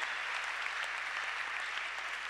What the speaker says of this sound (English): You did well by clapping for him.